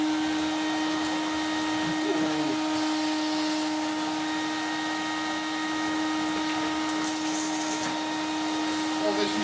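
A Numatic vacuum cleaner, set up as a central vac for floor cleaning, runs with a steady, even motor drone and whine for the whole stretch, with a few faint knocks from handling.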